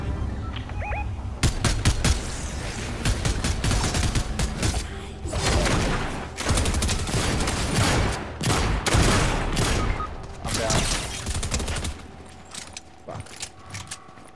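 Rapid bursts of automatic gunfire in the video game Fortnite, loud close volleys of crackling shots arriving in irregular clusters, with brief gaps between them and a quieter tail at the end.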